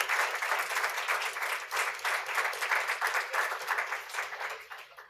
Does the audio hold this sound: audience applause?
yes